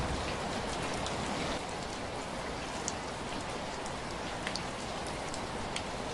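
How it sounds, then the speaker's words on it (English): Heavy rain pours steadily at night onto a hut roof, a dense, even hiss with scattered drop patters throughout and no voices. "heavy rain fell until the roof of their hut leaked"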